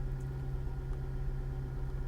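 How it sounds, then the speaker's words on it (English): A 2006 Jaguar XJR supercharged sedan idles, its exhaust giving a steady low rumble that stays even and unbroken throughout, with no voices. "You hear the exhaust at idle."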